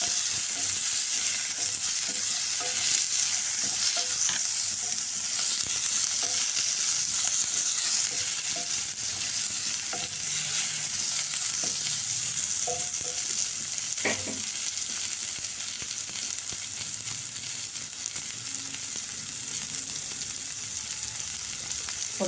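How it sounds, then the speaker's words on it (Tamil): Curry leaves and green chillies sauté in hot oil for snake gourd kootu, giving a steady close sizzle with occasional scraping stir strokes throughout and no talking. "கருவேப்பிலை, பச்சை மிளகாய் இது அப்படியே நல்லா வதக்கிட்டோம்."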